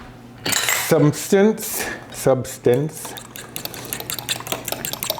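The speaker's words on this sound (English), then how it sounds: "I'm going to actually use a little fork to kind of whisk it together into a more cohesive" A small fork whisks mushroom soup mixture in a bowl, with quick clinking and scraping taps against the dish under and after a man's speech.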